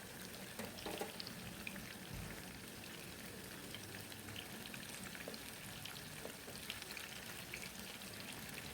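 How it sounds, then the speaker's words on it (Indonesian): Small-cut eggplant frying in oil, a faint, steady sizzle and crackle with scattered pops throughout, no talking. "Karena ini dipotong kecil-kecil jadi tidak terlalu lama saat menggorengnya"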